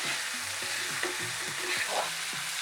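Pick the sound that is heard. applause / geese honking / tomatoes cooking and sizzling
tomatoes cooking and sizzling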